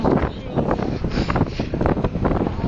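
Strong wind roars and buffets the microphone steadily throughout, loud rumbling gusts with a breathy hiss and no clear speech.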